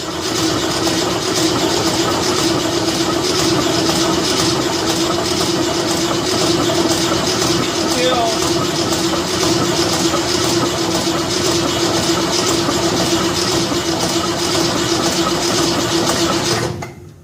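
A freshly assembled 302 V8 in a 1966 Ford F100 shop truck cranking on the starter with the choke on, a loud, steady mechanical churning and whirring that runs continuously without catching, then cuts off.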